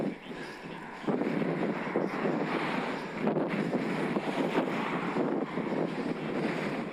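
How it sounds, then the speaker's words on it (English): Strong wind gusts buffet the microphone while riding a Specialized Turbo Vado SL e-bike through Macclesfield Forest, a loud continuous roar that surges and dips in waves over seven seconds, with no talking. "Must be 25 mile an hour gusts."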